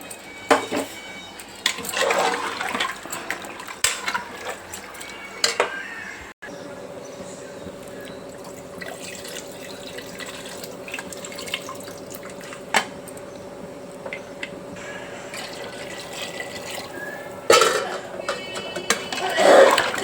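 Water pours into a pot for mutton head curry in a home kitchen, a steady running wash with a few soft clinks of cookware and brief clatters near the end.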